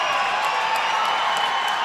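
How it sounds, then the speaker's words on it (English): Hockey fans roar steadily in Danbury Arena during a Danbury Hat Tricks game against the Binghamton Black Bears, a continuous loud crowd wash with scattered whistles and cheers. "the fans going nuts here in Danbury Arena"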